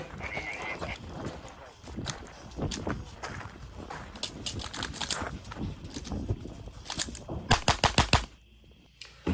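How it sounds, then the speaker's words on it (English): Pistol fire during a shooting match stage at a major competition, with a gun jam interrupting the string; shots ring out amid crowd noise and movement, ending in a rapid close burst of several loud cracks. "I had the gun jam at a major during a stage, and I'm gonna go ahead and play that now"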